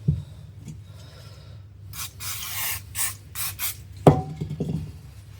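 A rear spring seat on a Jaguar XJ40 is scrubbed clean with a series of close, harsh brushing rasps in short bursts. One sharp knock follows, and the rest of the space is quiet.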